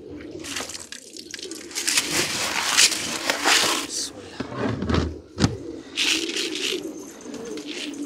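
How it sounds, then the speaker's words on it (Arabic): Pigeons cooing on a wet rooftop in winter weather, soft repeated coos mixed with wing flutters and rustling, with people talking nearby throughout. "مع الحمام."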